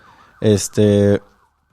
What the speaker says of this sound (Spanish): estoy escuchando una sirena de fondo